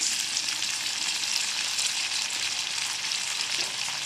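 Cauliflower pieces coated with turmeric and salt fry in hot oil over a raised flame, producing a dense, even, close-up sizzle that runs unbroken throughout.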